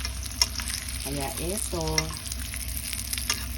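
Steady crackling sizzle of dried fish (danggit) frying in hot oil, with a person speaking briefly over it.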